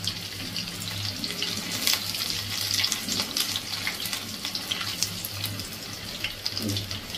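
Vadas fry in hot oil over a low gas flame, giving a steady close sizzle and crackle with a faint low hum beneath.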